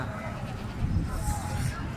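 Goats and a kid at a Qurbani livestock sale in Hyderabad, bleating under steady nearby talk, with a few brief cries rising above the voices.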